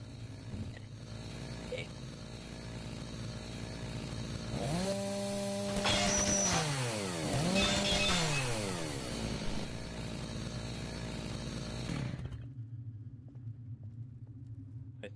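A chainsaw in the Gmod Star Wars RP game revs up and down in a couple of rising and falling surges over a steady engine drone, then cuts off abruptly near the end.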